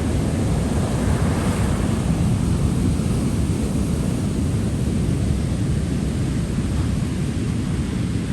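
Storm-driven surf surging up and over a beach berm, a constant loud roar of breaking water mixed with wind buffeting the microphone, with no distinct individual waves.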